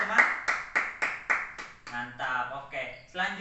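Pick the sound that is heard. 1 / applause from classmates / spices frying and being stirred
applause from classmates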